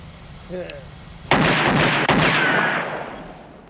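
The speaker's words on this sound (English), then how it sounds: "Was that gunshots?" A sharp, loud blast followed by a second close behind it, each trailing off in a long rumbling echo, with a faint voice just before.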